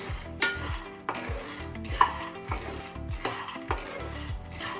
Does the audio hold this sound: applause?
no